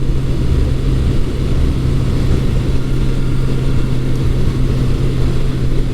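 A 1982 Suzuki GS750E air-cooled motorcycle engine idles steadily after carburetor work, warming up on a cool day with a loud, constant low rumble and no other sounds.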